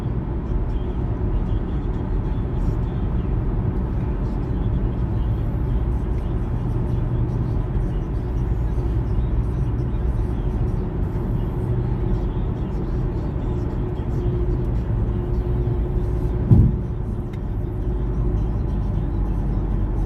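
A car drives through the Bronx, heard from inside as a steady low engine and road drone that holds evenly throughout, with one brief bump near the end.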